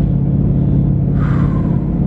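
A VMP Odin supercharged Mustang GT running E85 pulls at wide-open throttle on the street, giving a loud, steady, low rumble heard from inside the car, with a faint supercharger whine rising near the end.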